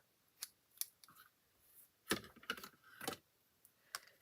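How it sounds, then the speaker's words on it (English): Paper snips cut through cardstock in a run of sharp, close snipping clicks, spaced irregularly and growing busier partway through, in a quiet room. "Let's grab my scissors. Taking my paper snips."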